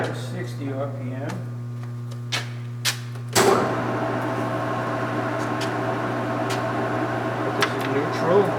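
Kingston HJ-1100 17-inch by 43-inch lathe shifted to a slower 160 RPM speed, a steady machine hum with faint clicks that swells into a broader, louder running drone partway through and then continues evenly.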